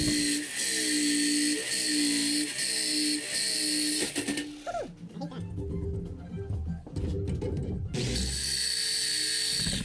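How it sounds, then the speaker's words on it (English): A power drill whines in steady bursts drilling holes, then a harsher jigsaw takes over cutting with rough, buzzing strokes, close and loud. "I'm going to drill some holes, and I'm going to get the jigsaw and cut this out"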